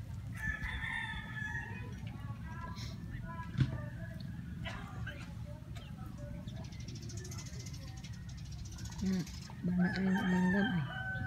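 A rooster crows and clucks near a cow eating jackfruit, the calls rising repeatedly over a steady low rumble, with people talking nearby.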